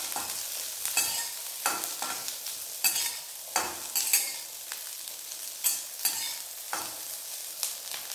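Ginger and green chillies sauté in a little oil, a spatula scraping and stirring in repeated quick strokes over a gentle sizzle, close and crisp with no voices.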